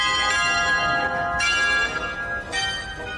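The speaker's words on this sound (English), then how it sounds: "We hear the bells." Several bells ring out with sustained overlapping tones and fresh strikes roughly every second or so, loud and close during an outdoor island treasure-hunt game show puzzle, with no talk over them.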